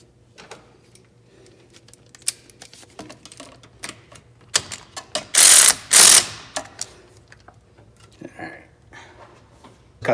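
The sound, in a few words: tightening down a coolant kit part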